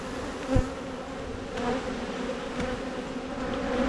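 Honey bees buzz steadily around open hives during a mid-July beekeeping inspection, a low continuous drone with a soft knock near the start and a slight swell toward the end.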